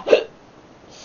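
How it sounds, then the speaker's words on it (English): A single sharp hiccup bursts out close and loud at the start, then fades into quiet room noise. "Sorry, I got the hiccups."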